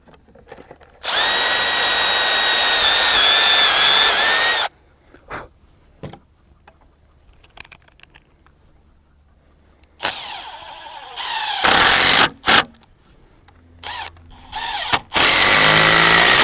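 A power drill drives a screw into old repurposed garden timber, a loud close whirring burst of a few seconds, then after a quiet pause several shorter stop-start bursts as the screw is set.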